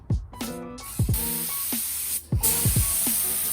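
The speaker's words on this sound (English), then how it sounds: "Cleaned and spray painted the new hardware and feet in antique bronze." An aerosol can sprays antique bronze paint onto cabinet hardware and feet in short repeated bursts, each hiss starting with a rattle-like click and cutting off sharply, close and fairly loud with no talk.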